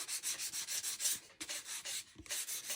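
Light, rhythmic scraping of 320 grit sandpaper rubbed with barely any pressure around the edges of a paper napkin decoupage piece, steady back-and-forth strokes close up with two brief pauses, no talking.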